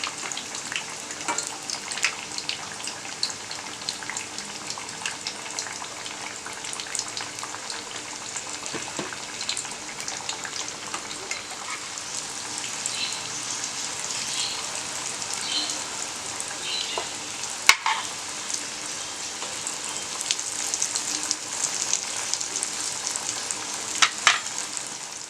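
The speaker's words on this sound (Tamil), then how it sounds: "இப்போ அடுத்த சைடு வந்து நம்ம திருப்பி போட்டுக்கலாம். நல்லா வந்து கோல்டன் ப்ரௌன் ஆன உடனே நம்ம எடுத்துடலாம்." Yam (karunai kizhangu) pieces deep frying in hot oil, a steady close hiss of bubbling oil with soft occasional pops and a sharp clink partway through, no talking.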